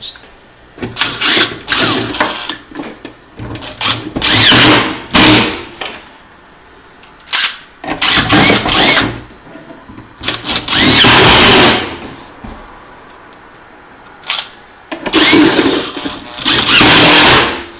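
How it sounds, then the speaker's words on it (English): A power screwdriver drives screws to mount a pod onto a workbench, heard as a series of loud, close whirring bursts of a second or two each, separated by short pauses. "I'm not screwing it all the way down super tight."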